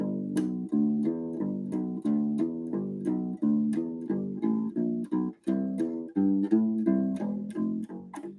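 Fast plucked U-Bass notes in a quick, steady rhythm, climbing through repeated 12-bar blues walk-up runs, clear and close with no talking.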